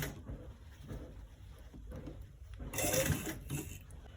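A sewing machine stitches around a V-neck garment, running in short continuous bursts with a louder, brighter stretch near the end, close and fairly quiet with no talking.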